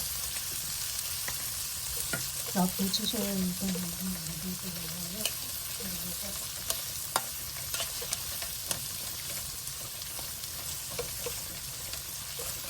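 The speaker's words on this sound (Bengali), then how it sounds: "পেঁয়াজগুলো একটু লাল হলে অন্য মশলা পর্যায়ক্রমে দিয়ে আমাদের মশলাগুলো তেলে ভেজে নিতে হবে" Onions and spices frying in hot oil for a chicken curry, a continuous close sizzle with spoon stirring and occasional clinks against the pot, no talking.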